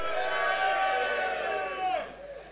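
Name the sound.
crowd cheering at Sugar Club live show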